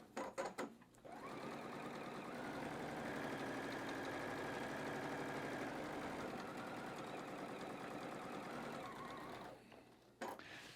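A sewing machine stitches quilt blocks in one long, steady whirring run after a few short starts, close and even, with brief clicks at the beginning and end.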